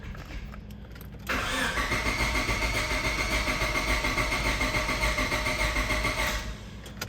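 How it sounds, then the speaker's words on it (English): A Honda D16Y7 engine cranks over on the key, then catches and keeps running with a steady, loud drone close by, and no one talks over it. "take your key and crank the car over"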